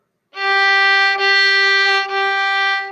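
A bowed violin plays a practice exercise from a beginner string method book, holding one clear sustained tone in three long strokes with slight breaks at each bow change.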